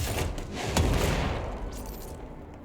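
In the game Control, the Charge rocket launcher fires with a sharp loud blast near the start, then a rolling explosive rumble that fades over a couple of seconds, with no voices.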